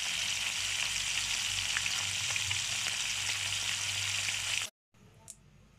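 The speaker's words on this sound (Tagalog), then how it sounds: "ay magpiprito na ako" Loud, steady sizzling of tanigue fish frying in hot oil in a pan fills most of the clip, then cuts off abruptly, leaving a quieter hiss.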